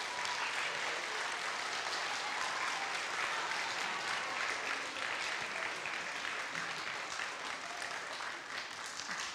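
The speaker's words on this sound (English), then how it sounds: "give the parents a clap" Sustained applause from a large audience at a primary school carol service, steady dense clapping filling the hall for the whole stretch with no voices over it.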